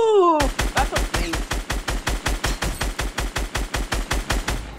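Rapid gunfire from a weapon in the Fortnite video game, a steady run of about twenty evenly spaced loud shots close up, with no talking.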